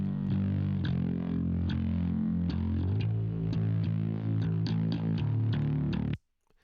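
Music played through an amp with gentle distortion adding a light bite, a steady sustained guitar-like tone with rhythmic accents running loud for about six seconds before cutting off abruptly.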